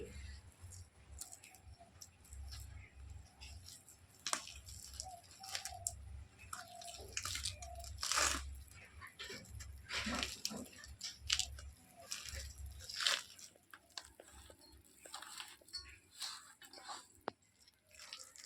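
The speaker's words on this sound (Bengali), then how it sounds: "এবারে তালের খোসাটা ছাড়িয়ে নেব" A ripe palm fruit being peeled by hand, giving close, irregular wet tearing and crunchy fibrous rips with soft handling noises, some louder pulls standing out, over a faint low background.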